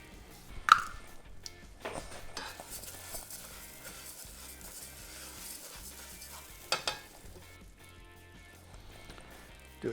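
Basmati rice sautéing in melted butter in a pan, a soft steady sizzle with scraping and stirring clatters from the utensil, fairly quiet and close.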